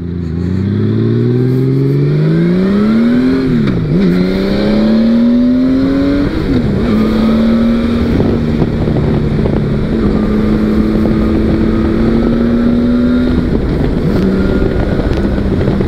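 Honda Valkyrie motorcycle engine, just after an oil change, revving loudly while riding, pitch climbing and dipping through repeated throttle rises and a long steady pull, with wind buffeting throughout.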